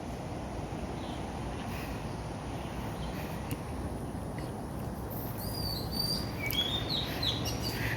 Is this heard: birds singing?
yes